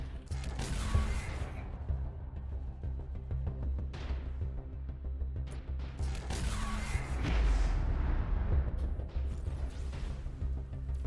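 Torpedoes firing in the space game Avorion, a series of heavy booms and crashes spread over the stretch, loud and irregular, with a rumbling low undertone between the blasts.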